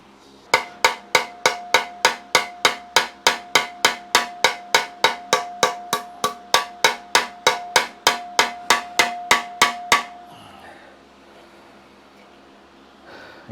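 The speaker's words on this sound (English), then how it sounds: "You notice I'm not sort of whacking it, I'm just doing it really light, bit by bit" A hammer lightly tapping the edges of sheet metal during metalwork, about thirty quick, evenly spaced ringing taps for roughly ten seconds, close and clear, then stopping.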